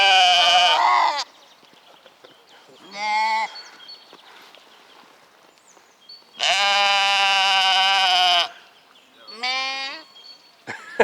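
Sheep bleat loudly and close in several long, wavering calls separated by pauses, answering a phone playing a recording of the same flock.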